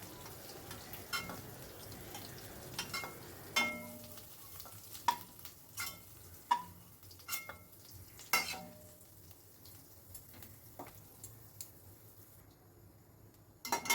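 Fried potatoes lifted out of hot oil in a kadai and moved to another bowl: a quiet, continuous sizzle of oil under a series of distinct scrapes and metallic clinks from the spatula against the pan.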